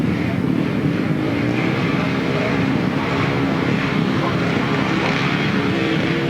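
500cc solo motorcycles racing at a 1993 grasstrack meeting at Stone in Oxney, their engines a steady, blended roar with wind noise that never lets up.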